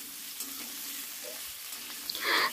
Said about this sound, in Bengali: তো আগে আমি ইঁচড়টা ভেজে নেব